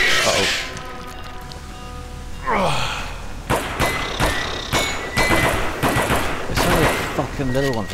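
Gunfire from the Alien vs. Predator game rattles out as a sequence of sharp loud shots in irregular bursts, mixed with game sound effects and creature noises, with someone speaking in between.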